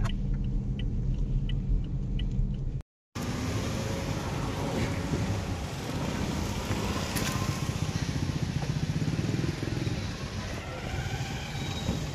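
Steady low road rumble of heavy traffic carries into a moving vehicle on its way to a church, faint and continuous with a brief drop-out near the start and no clear talking.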